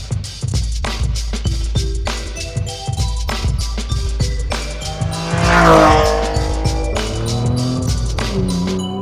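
Engine of a Clarion-built first-generation Acura NSX sports car revving hard through gear changes, loud and close, with a rising high whine and squealing tires midway.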